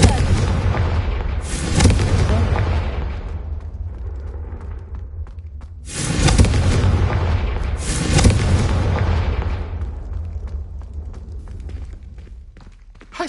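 Fire spell explosions in Hogwarts Legacy, with two loud booming blasts a few seconds apart, each followed by a long rumbling crackling decay over a continuous heavy background of game noise.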